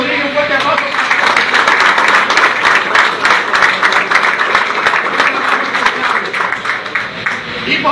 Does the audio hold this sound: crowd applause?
yes